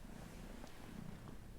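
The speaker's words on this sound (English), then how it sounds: "he's got a super loud purr on him" A cat purrs close and steady, a low continuous rumble with no other sound over it.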